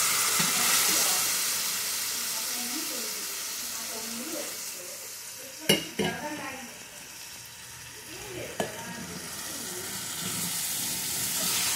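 Boiled mutton sizzles and fries in a kadai for mutton curry, a steady hiss throughout with a couple of sharp clanks from stirring, while a voice talks faintly underneath.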